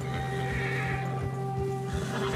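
A horse neighs and whinnies in the open-world game Red Dead Redemption 2, its call sounding steady and close, layered over a continuous game ambience with no talk.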